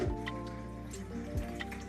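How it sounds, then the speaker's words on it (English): Blended lime lemonade strained into a bowl, with wet dripping and liquid splashes close by, plus a couple of soft squishy drops, heard over a steady background hum. "Strain it into the bowl."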